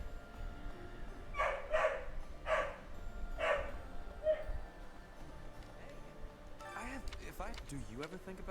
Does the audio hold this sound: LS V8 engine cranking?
no